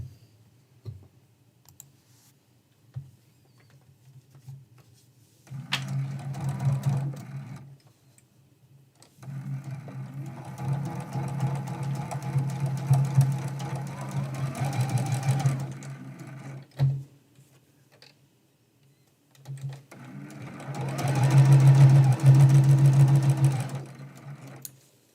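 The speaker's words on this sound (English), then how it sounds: "Now we're sewing that seam." A sewing machine stitches a quilt seam in foundation paper piecing for a candlestick trivet, running in three loud bursts of steady rapid whirring and clicking separated by pauses, close up with no talk.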